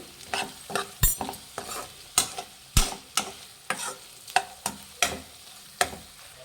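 Mutton liver masala frying in a pan for a military-hotel-style pepper fry is stirred in steady scraping strokes, about two per second, with a soft sizzle underneath.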